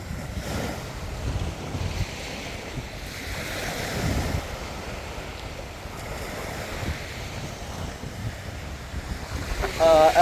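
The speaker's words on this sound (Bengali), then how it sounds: "তো একটু সমুদ্রের গর্জন আপনাদেরকে শোনাই।" Atlantic Ocean surf roars steadily onto a beach on a moonlit night, a broad continuous wash of breaking waves with gusty wind noise across the microphone and no talking.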